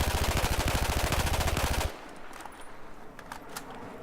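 An AEK assault rifle in Battlefield 4 fires a fast, steady automatic burst, loud and close, then stops abruptly partway through, leaving quieter game ambience and scattered faint clicks.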